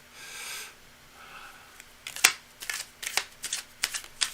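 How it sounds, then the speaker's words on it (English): Tarot cards being shuffled by hand, first a soft riffling swish, then a run of crisp, irregular flicks and taps as the deck is cut and reshuffled, close and fairly quiet. "the cards are jumpy tonight. Well, of course, it's not the cards, it's me shuffling"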